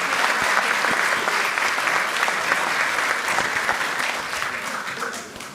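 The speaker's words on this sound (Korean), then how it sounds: "박수 한번 보내주시기 바랍니다." Steady, full applause from an assembled audience at a Korean National Assembly gathering, broad and continuous, tapering slightly toward the end.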